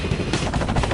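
A CH-46 tandem-rotor military helicopter gives a loud, rapid rotor thumping with a whining engine drone, close and continuous for about a second.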